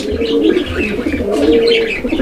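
Pigeons on a pigeon farm coo in low, rolling murmurs that overlap steadily throughout, with a busy background of fluttering and faint chirps.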